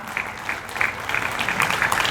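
An audience gives enthusiastic applause for two honored guests at a Hindi event, a continuous wash of clapping with some louder individual claps standing out.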